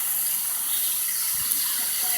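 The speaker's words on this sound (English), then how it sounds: "we're back at the waterfall again before we head home" A West Virginia waterfall pours in a constant broadband rush of falling water, loud and close, with no voices over it.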